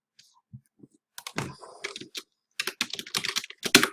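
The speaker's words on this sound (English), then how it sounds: "Also typing to a few friends on my other monitor" Computer keyboard typing at a home desk setup, a run of quick irregular key clicks in short bursts with brief pauses, fairly close and clear, no talk.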